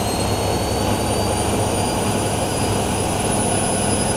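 Dense, continuous roar of a Whirlpool AWM 1400 washing machine ramping up its spin cycle, with a high whine holding steady above the broadband rush.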